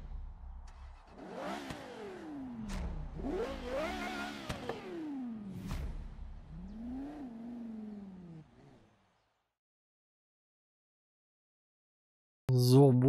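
Porsche Carrera GT in Forza Horizon 3 fires up and drives off, its engine roaring through several rising and falling revs for about eight seconds before going silent, with a loud burst returning at the very end.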